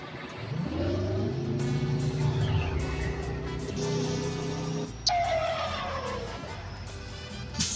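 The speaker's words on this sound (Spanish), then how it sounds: "Se escucha el motor del T800 así" A Kenworth T800 truck engine in a truck-driving video game, revving and shifting with a rising hum, steady and fairly loud with a sharp click midway as the tone climbs again.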